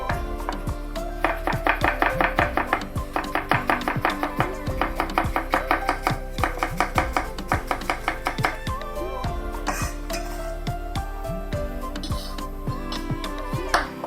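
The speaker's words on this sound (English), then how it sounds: "Cut the spring onion." A knife chops spring onion on a cutting board in quick, rhythmic bursts of sharp taps, close and prominent, with brief pauses between runs of cuts and light background music.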